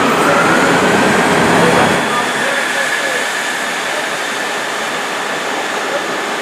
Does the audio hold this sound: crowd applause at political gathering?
no